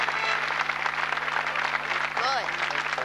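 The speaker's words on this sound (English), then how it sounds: "Round of applause." A studio audience at a variety show applauds in a dense, steady wash of clapping, with a voice calling out briefly over it near the end.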